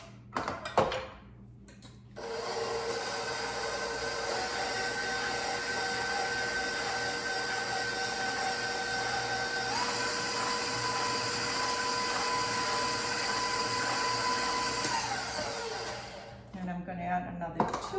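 An electric mixer runs steadily for about fourteen seconds, working sweet bread dough with flour, a continuous whirring hum that shifts pitch slightly midway, with brief handling knocks before and after.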